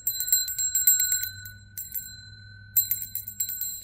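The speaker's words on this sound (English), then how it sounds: "with this sacred bell and sound that's coming from a frequency vibration" A sacred bell used in a Reiki healing session rings out in clear, sustained metallic tones, struck in a quick run of rapid hits, fading, then struck again near the end, close and with no speech.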